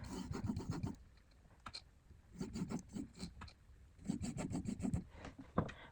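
A pencil scratches marking lines around a piece of pine wood spinning on a lathe, heard as several close, dry rubbing bursts separated by short pauses.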